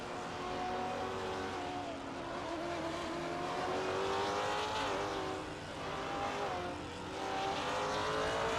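Race car engines in a racing game, among them a 2006 Alfa Romeo 156 and a 2018 Ford Mustang GT4, drone steadily with rising and falling pitch sweeps throughout, loud and continuous with no talk.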